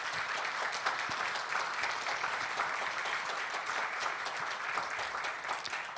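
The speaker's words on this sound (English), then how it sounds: "Please help me give them a round of applause for making this possible." Applause from an audience at a county justice summit on pre-trial and mental health solutions, a dense steady patter of many hands that carries evenly through the moment at moderate loudness.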